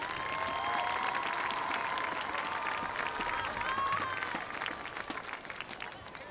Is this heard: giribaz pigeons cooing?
no